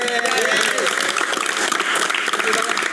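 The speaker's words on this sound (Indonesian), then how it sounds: "Sekali kita tepuk tangan lah." A crowd applauds in a steady burst of clapping for a few seconds at a motorcycle prize giving, with voices mixed in underneath.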